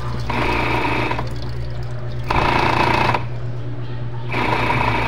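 A top-load washing machine with a loose pulsator churns loudly with a steady low hum, its motor noise surging in repeated bursts of louder grinding and rattling, with no voices.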